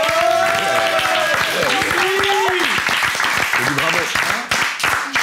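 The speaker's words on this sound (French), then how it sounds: "Je pense qu'on peut doublement applaudir puisque Yumi est cachée dans les coulisses." Studio audience clapping for a costume-and-set reveal, dense applause with sustained musical tones and voices underneath, loud and continuous.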